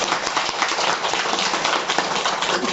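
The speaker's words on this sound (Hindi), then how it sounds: "एक बार ताली बजाओ अच्छी तरह।" A crowd at a spiritual talk in Dhangadhi, Nepal claps together in a dense, steady burst of applause that holds evenly throughout.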